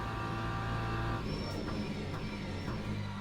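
BMW M4 GT3 racing engine at Monza in Le Mans Ultimate, a steady loud drone that drops as the car brakes for a turn, then builds again under full throttle.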